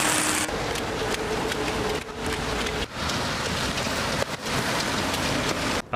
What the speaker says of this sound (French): bravant la pluie qui s'y était invitée